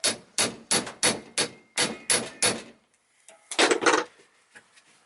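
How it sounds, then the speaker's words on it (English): Seven sharp metallic hammer strikes on a Toyota Corolla VVT-i engine bolt in a steady rhythm, close and loud, followed by a few lighter clanks and a scrape. "There is my hammer, and I hit"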